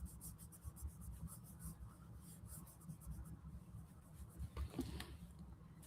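Colored pencil laid onto a coloring book page as a base color, a soft steady scratchy rubbing of lead on paper, close and quiet, with faint low background noise.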